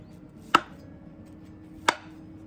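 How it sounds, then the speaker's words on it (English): A knife slices low carb French toast into pieces on a cutting board, landing two crisp, isolated chops about a second apart, close and clean against a quiet room. "I'm gonna cut it into 6 pieces probably"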